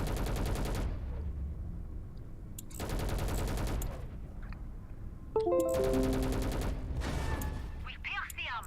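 The Aegis ship's main weapon in the space combat game Fractured Space fires in three sustained rattling bursts separated by pauses, with electronic tones and effects near the end and a voice talking over the action.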